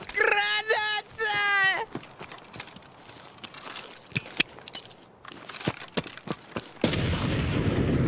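Grenade blast in a first-person shooter game: a sharp explosion late on gives way to a loud sustained rumble, preceded by scattered gunshots, clicks and bursts of excited talk.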